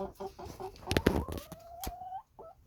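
A rooster clucks and calls nearby, a few short clucks followed by a drawn-out warbling cry, then a brief final cluck.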